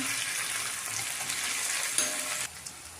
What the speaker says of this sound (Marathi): ठेचा आपण छान भाजून घेऊया